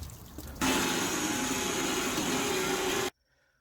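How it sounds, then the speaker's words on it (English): Garbage water drains from the back of a truck in a steady loud rushing gush that stops abruptly after a few seconds. "all the garbage water is draining out the back"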